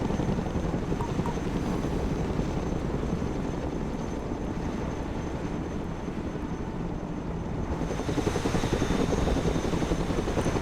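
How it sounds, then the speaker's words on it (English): Helicopter in the video game Broken Arrow, its steady rotor and engine drone loud and continuous throughout, swelling slightly near the end as it flies low on a recovery mission, with no talk. "Let's go and recover it with our helicopter."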